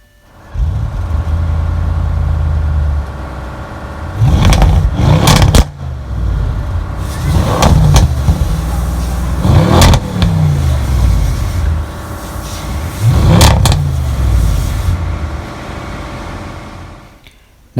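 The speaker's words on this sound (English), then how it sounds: "immediately after you start the engine, the navigation system screen pull out." 2016 Audi RS7 engine firing up and revving, a loud low idle broken by four sharp throttle blips that rise and fall roughly every three seconds, close and alone.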